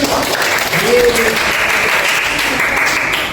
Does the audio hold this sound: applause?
yes